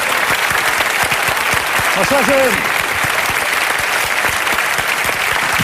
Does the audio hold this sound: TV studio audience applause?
yes